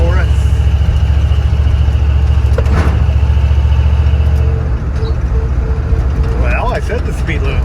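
A car engine hums steadily at close range while the vehicle accelerates through its gears on a road, with a low constant drone, a slight dip partway and someone talking over it.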